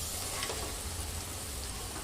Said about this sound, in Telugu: ఇప్పుడైతే మటన్ వేసుకుంటున్నా.